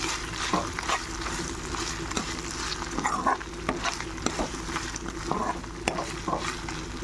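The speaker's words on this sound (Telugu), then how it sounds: "నూనె పైకి తేలింది నూనెలోనే కొంచెంసేపు అయితే ఫ్రై చేసుకోవాలి" Beef pieces frying in their own oil after the water has boiled off, giving a steady low sizzle with repeated scraping and stirring noises from a spoon in the pan.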